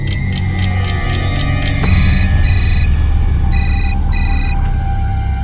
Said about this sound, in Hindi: सीमा को फोन करती हूँ।